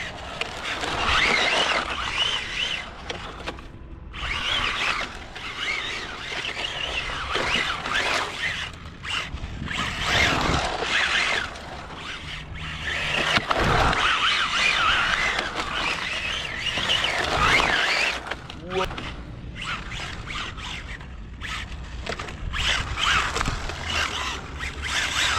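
A Kyosho Fazer Mk2 1/10 RC car styled as a 1972 Mazda Savanna GT tears around a yard and spins out, a buzzy whirring motor surging and dropping repeatedly over about twenty-five seconds, fairly close.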